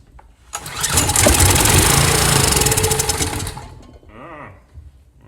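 A Karcher pressure washer's small petrol engine catches and runs at a loud buzzing rev for about three seconds, then chokes down and sputters to a stop.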